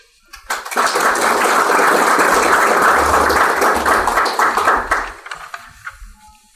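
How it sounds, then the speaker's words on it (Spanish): Loud applause from an audience at a company event breaks out after a short silence, holds as a dense steady wash for about four seconds, then thins into scattered claps. "Un aplauso, por favor."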